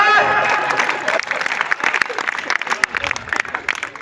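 Applause from an audience at a Hindi comic poetry recital swells near the start, then thins into scattered clapping and crowd noise under a voice.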